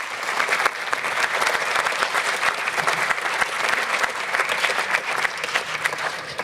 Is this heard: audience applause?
yes